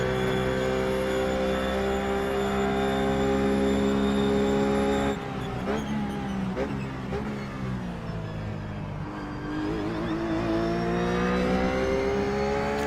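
RUF GTC race car engine in the iRacing simulator at Road America, a steady loud droning whine that dips as the driver lifts off throttle, then builds again, heard close and alone.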